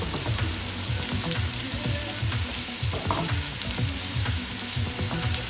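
Lamb knuckles browning in a hot pan for a Cape Malay curry, a steady, close sizzle and crackle of frying meat throughout, with no talking.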